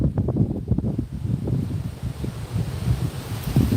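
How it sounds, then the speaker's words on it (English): High winds of Hurricane Helene in Lakeland buffet a microphone outdoors, a low, continuous rumbling roar with gusty fluctuations. "But the wind is coming from that direction."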